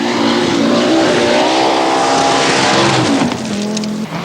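A Chevette rally car at the 1983 Scottish Rally drives loud and close along a dusty forest stage, engine note rising and falling through gear changes, with a slight fade near the end.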